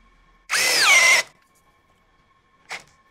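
DongCheng DCJZ2060i cordless impact drill on speed 2 in drilling mode whirs in one loud, close burst of under a second with a wavering pitch, followed after a pause by a brief, fainter blip.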